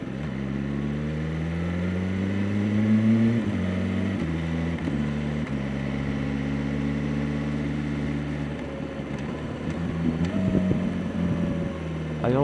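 2026 BMW M1000R motorcycle engine while riding, its pitch rising and then dropping abruptly several times as gears shift smoothly on light throttle, a steady nearby drone with no talking.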